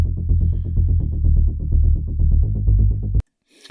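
Synth with an LFO fluttering the filter cutoff in sixteenth notes, a steady low pulsing throb with rapid even wobbles that stops abruptly near the end.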